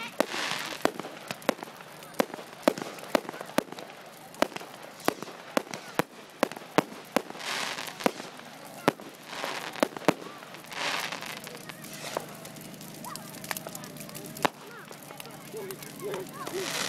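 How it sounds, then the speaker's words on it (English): At a model flying club's night event, fireworks crack and burst in a long, uneven volley, some sharp bangs, some sizzling crackle, heard from a distance while people talk quietly nearby. "Molly, look at the plane flying through the fireworks."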